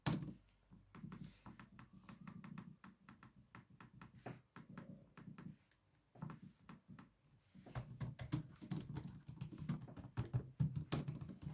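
Fingers type on the keyboard of a Lenovo Ideapad S145 laptop with an AMD A6 processor, producing close, quiet clicky key taps in irregular bursts with short pauses, ending in a faster flurry of strokes, and no talking.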